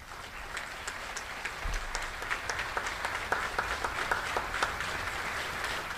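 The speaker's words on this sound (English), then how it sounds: "while you're clapping, let's go ahead and clap for the troops on the field" A crowd at an outdoor Army change-of-command ceremony claps continuously, a steady, moderately distant wash of applause with scattered sharper claps and no talk over it.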